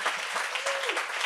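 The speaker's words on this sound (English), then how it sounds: "Big round of applause for Martine Rose." An audience gives a guest a round of applause at a talk event, a short, dense wash of clapping with a faint tonal squeak passing through it.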